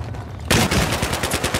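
Rapid automatic gunfire from the Battlefield 3 multiplayer game in a Metro deathmatch, a fast loud burst of close shots that starts abruptly after a quiet moment.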